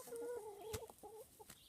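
A chicken clucks in short repeated calls near a fence, a few close, moderately loud clucks with no talking.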